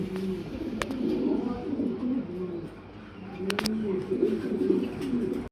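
Pigeons coo in soft, rolling low calls that repeat steadily at a pigeon farm, with sharp metallic clicks now and then over a constant background hum.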